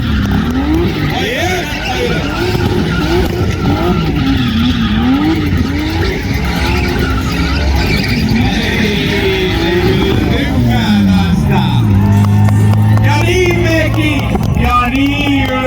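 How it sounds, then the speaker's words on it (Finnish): A BMW does a burnout with loud, continuous tire squeal and a revving engine rising and falling, close and dominant, while a voice talks underneath. "Joo, se oli semmonen burnis."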